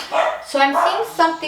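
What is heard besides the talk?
dog barking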